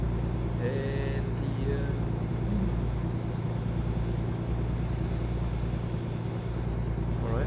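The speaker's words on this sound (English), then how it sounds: "I can actually hear the sound of the truck on my side as well" A truck engine in American Truck Simulator, driving from Redding to Bakersfield at night, drones in a steady low rumble throughout, with faint background sounds over it.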